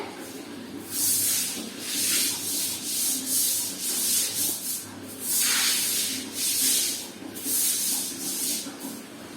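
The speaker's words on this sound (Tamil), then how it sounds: "இந்த மாதிரி தான் நான் இந்த ரூம் ஃபுல்லா கழுவு போறேன்" A room floor is scrubbed and washed with rhythmic, hissing swishes that rise and fall in regular close strokes.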